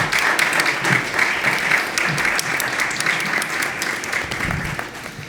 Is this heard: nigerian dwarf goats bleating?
no